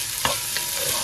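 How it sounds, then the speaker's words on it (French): Garlic and ginger sizzle steadily in olive oil in a cooking pan, with a couple of soft stirring scrapes over the constant close frying hiss. "Je mets l'huile d'olive, donc je le cuisine avec l'huile d'olive."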